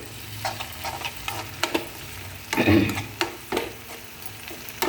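Green chillies fry in a simmering fish curry gravy in a pan, with a bubbling sizzle broken by irregular stirring scrapes and clatters, close up and without speech.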